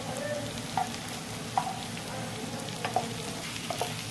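Vegetables for an eggplant moussaka tray, with onion and pepper, sauté in a pan: a continuous low sizzle runs throughout, broken by several sharp clinks and scrapes of a utensil tossing them, with no voices.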